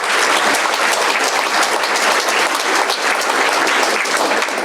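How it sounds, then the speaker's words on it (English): Dense, sustained audience applause fills a women's achievement awards ceremony, a loud, even wash of many hands clapping with no pauses and no speech over it. "So please, a round of applause for all the other women today."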